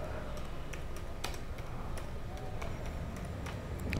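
Someone typing on a computer keyboard, an irregular run of light clicking keystrokes close up over a constant background hiss, with a few sharper key taps standing out.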